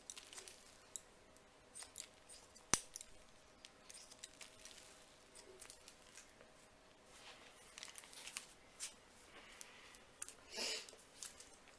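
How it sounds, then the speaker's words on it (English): Scissors cut short hair using the scissor-over-comb technique, giving faint, quick snipping and light crisp clicks scattered at an irregular pace, with one sharper snap near the start, in a quiet room. "with scissor over comb you can go in vertically and then you have to change the angle"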